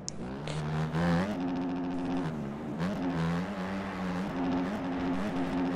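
Dirt bike engines from the A-Kit bikes in the MX Bikes motocross video game, rising and falling revs with a buzzy, whining drone throughout, loud and continuous with no talk.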